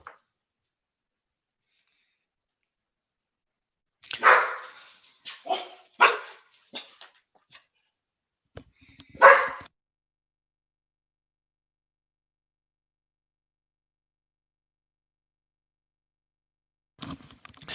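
Dogs bark in a few scattered bursts at close range, a cluster of sharp woofs followed by a single louder bark, then quiet before a brief final yip, with no talking.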